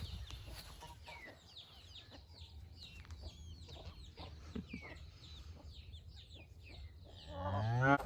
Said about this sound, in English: Okay, these chickens are in our original garden plot.